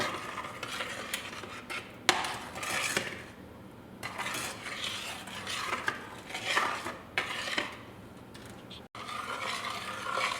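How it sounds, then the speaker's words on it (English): A spoon stirs butter and sugar melting in a pan over low heat for caramel icing, with scraping strokes and soft clinks repeating close by, with no talking. "You just want to keep stirring this, keep letting it heat."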